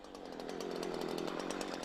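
A Husqvarna chainsaw runs at a steady, high buzzing whine, close and continuous, with no voices over it.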